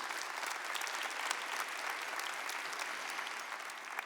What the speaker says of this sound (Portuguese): dê uma salva de palmas à palavra de Deus